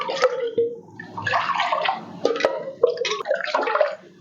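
Water splashes and pours in uneven bursts into a pot or pan of flour, close by, with short gurgling and dripping sounds between pours.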